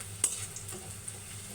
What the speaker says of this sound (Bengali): তারপরে পেঁয়াজটা একটু ভেজে নিলাম।